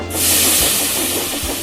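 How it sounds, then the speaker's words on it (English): Steam engine in the Sodor Simulator train game giving off a steady, loud hiss of escaping steam that runs unbroken through the whole moment, with low rumbling underneath. "there was Gordon going slower and slower in a cloud of steam"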